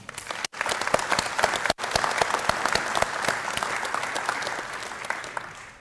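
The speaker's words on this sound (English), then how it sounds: "How about a round of applause for them?" An audience at a 2024 West Haven awards ceremony honoring Vietnam-era veterans applauds: close, brisk individual claps over a warm crowd of clapping, sustained for several seconds before gradually tapering off.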